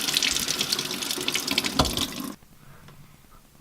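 Hot water runs steadily from a tap into a sink during cleaning of brass, a loud close gushing that cuts off abruptly partway, leaving quiet drips and faint handling sounds.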